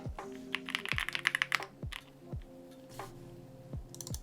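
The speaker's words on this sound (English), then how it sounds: "I'm gonna end this stream with one more typing sounds test." Typing on a KBDFans Odin 75 keyboard with polycarbonate plate and lubed Durock POM switches, a quick burst of crisp clacky keystrokes followed by slower single presses with deeper thocky returns, close and clear.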